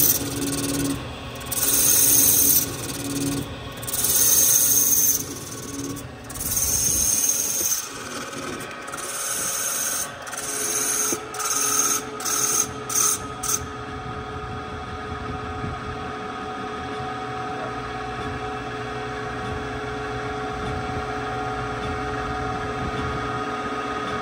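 Machine cutting a radiused exhaust valve seat in a Moto Guzzi cylinder head, a rhythmic rasping, scraping grind in bursts that gives way to a steadier, quieter machine hum, close and alone.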